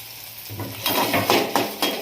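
Spices and tomato fry in a pan for a ridge gourd curry, with a steady sizzle under repeated scraping stirs of a spoon against the pan, close and moderately loud, and no talking.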